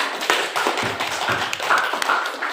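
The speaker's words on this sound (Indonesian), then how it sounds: "Kita beri aplaus untuk kelompok 2" A classroom group applauds a presenting group during a university teaching-practice session, with steady clapping from several people throughout and no speech.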